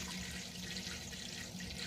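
Juice poured from half-gallon bottles into a cooking pot while making homemade red wine, a steady faint splashing stream lasting a couple of seconds.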